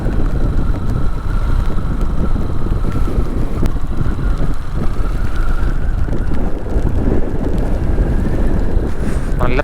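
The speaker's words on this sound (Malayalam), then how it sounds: "തണുത്ത കാറ്റടിച്ച് തുടങ്ങിയിട്ടുണ്ട്." Cold wind buffeting the microphone on a bike ride through misty Munnar, a loud continuous low rushing roar with a faint engine hum underneath, steady for the whole stretch.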